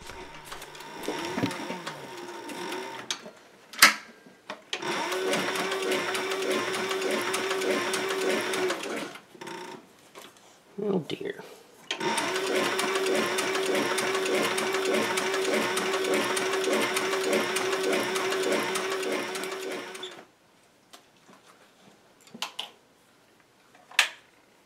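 A machine stitches the edges of a leather knife sheath for an old bowie knife, running in two long steady buzzing bursts with short pauses and a few sharp clicks in between.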